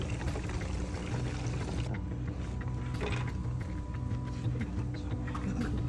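Premium gasoline being poured, a continuous low liquid gurgle and splash running steadily throughout, fairly quiet and close with faint mechanical clatter mixed in and no talking.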